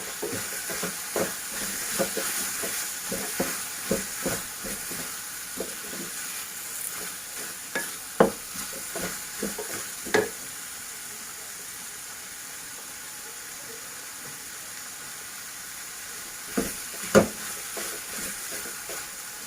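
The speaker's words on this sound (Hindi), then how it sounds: "इस मिक्सचर को हम ज़्यादा देर फ्राई नहीं करेंगे" Steady sizzling of a tomato mixture frying in a pan for butter paneer masala, with occasional sharper pops and stirring scrapes scattered through; no talking.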